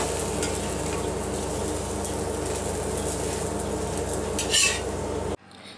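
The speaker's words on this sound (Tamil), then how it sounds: "இதை சுற்றி எண்ணெய் விட்டுக்கலாம். இந்த சைடும் வேக விடலாம்." Kaara adai, a Tamil rice-flour flatbread, frying in oil on a pan, giving a steady close sizzle with faint background hum and a brief clatter near the end before it cuts to near silence.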